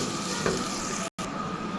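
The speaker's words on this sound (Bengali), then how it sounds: "আমার পেঁয়াজটা ভাজা হয়ে গেছে।" Onions frying in a pan for a white beef curry, a steady broadband sizzle close up, alone with one very brief dropout.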